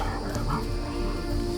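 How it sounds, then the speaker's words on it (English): A dog barks and yips repeatedly at moderate distance, the excited calls running steadily under a noisy outdoor background with no speech. "My dog's gonna start barking like crazy."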